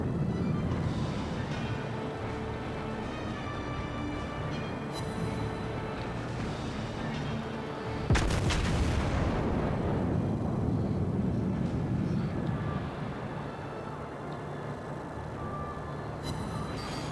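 Heavy battleship guns firing in a naval combat game, featuring the New Mexico, with a sharp loud broadband blast near the middle over a continuous rumbling engine and battle drone.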